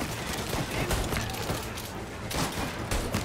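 Tommy gun fire in Mafia Remake, a dense, continuous rattle of automatic shots that fills the whole stretch with loud, unbroken gunfire.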